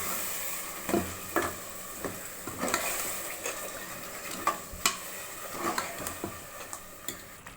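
Green masala of ground drumstick, onion and green chilli is mixed into a drumstick curry, with a spoon scraping and clacking against the pan in uneven strokes over a soft, steady sizzle, close and alone.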